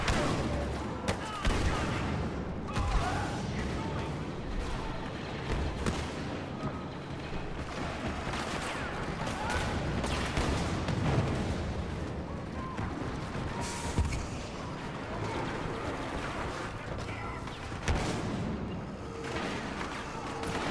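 Dense, continuous video game gunfire from a scatter gun, with rapid overlapping blasts and booms filling the whole stretch at steady loudness, and a voice talking faintly in the mix.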